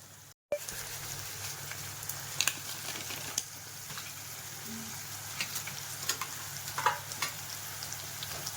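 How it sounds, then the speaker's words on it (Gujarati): Onion, tomato and capsicum sauté with masala in a hot pan, a steady close sizzle and crackle broken by occasional spoon scrapes and stirs, after a brief silent gap at the start. "ડુંગળી ટમેટાં અને કેપ્સિકમ સરસ મજાના સતળાઈ ગયા છે હવે મસાલો નાખી દેશું"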